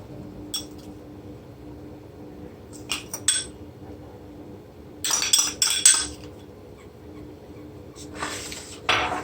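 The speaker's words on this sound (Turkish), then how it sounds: "Şöyle üzerlerine gelecek şekilde kaşığımla dağıtıyorum." Metal spoon scraping and clinking against a dish while spreading food over vegetable-topped tray meatballs, in short separate bursts with quiet gaps between them, close and fairly soft.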